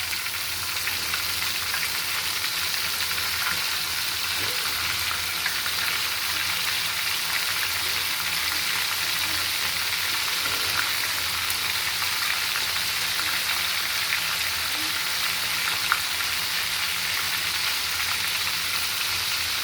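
Fish deep-frying fully submerged in plenty of oil, a loud, dense and unbroken bubbling sizzle that holds steady for the whole stretch, with faint scattered pops.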